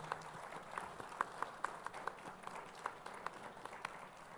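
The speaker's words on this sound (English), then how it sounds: "if you can have a round of applause for our panelists" Steady applause from a crowd, a continuous patter of clapping with some sharper individual claps standing out, lasting the whole clip.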